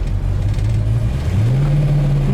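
Engine of a 1966 Ford Mustang K-code running loud and close while driving, a steady low drone that climbs slightly in pitch as it pulls.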